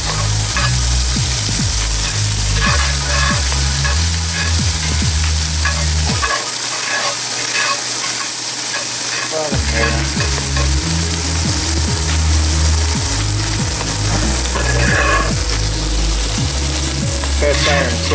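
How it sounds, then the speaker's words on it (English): About five garlic cloves cooking in a hot cast iron pan, with a loud, steady sizzle and frying crackle throughout, broken by repeated scraping stirs and a short quieter dip partway through. "I got about 5 cloves of garlic. I'm going to cook that down."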